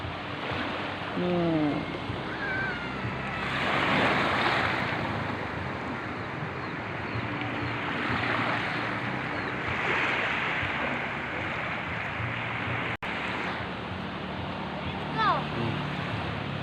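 Sea waves roll in at a harbour in Aceh Selatan, a broad washing surge rising and falling in long swells, with wind buffeting the microphone and voices talking over it.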